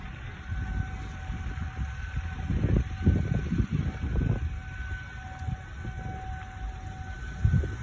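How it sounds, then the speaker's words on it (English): Federal Signal 2001-130 tornado siren sounding during a test near an apple orchard, a faint, distant steady wail carrying under rustling wind and nearby handling noise. "I'm trying to hit the siren ambience."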